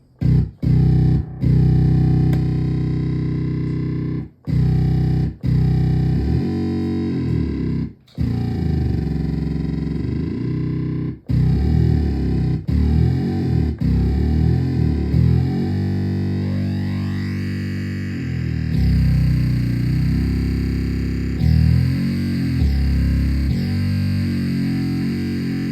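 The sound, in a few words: Donner B1 synthesizer sequence with Drive Max distortion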